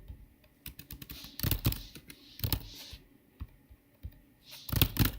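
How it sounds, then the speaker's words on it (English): Computer keyboard typing in irregular bursts of clicks with short pauses between, close and fairly loud, no talking. "I can keep typing"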